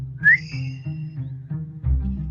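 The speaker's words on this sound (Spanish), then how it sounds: "Un débil sonido, semejante a un silbido ahogado," A muffled whistle-like tone rises sharply, then trails off into low, hollow murmuring that pulses faintly and swells again near the end, with no voices heard.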